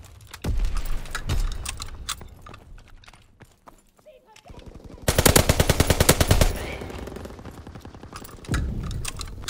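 Gunfire in Call of Duty WW2 multiplayer, a mix of scattered single shots and a dense rapid machine-gun burst in the middle, with game noise and keyboard clicks around it.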